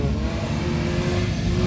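A Chevy Niva off-road car at a late-October off-road race start, its mid-range engine revving hard and accelerating close by, loud and steady with no voices.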